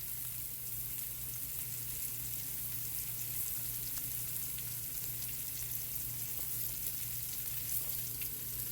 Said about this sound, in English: Okay, I'm going to go ahead and throw the onions in.